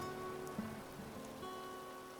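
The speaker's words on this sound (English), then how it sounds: "Hey, it's raining." Soft rain pattering in the Animal Crossing video game, a faint steady hiss of drops on surfaces with light tonal game ambience, quiet and unbroken, with one small soft blip early on.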